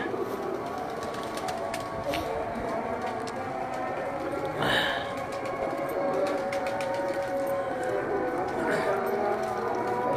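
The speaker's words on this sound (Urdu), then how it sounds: "بڑے نیاب کبوتر نے جی، ماشاء اللہ بہت اچھے کبوتر نے" Pigeons coo softly on a rooftop in Gujrat, Pakistan, among other bird sounds, with a busy, rustling background and a brief louder flutter midway.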